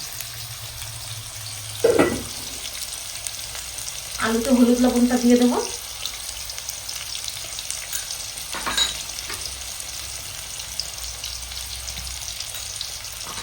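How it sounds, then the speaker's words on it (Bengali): Potatoes frying in oil in a pan at home, a steady sizzle running throughout beneath a voice speaking, with a brief stir and clatter partway through. "এবার সুন্দর করে আলুটা লাল করে ভেজে দেবো"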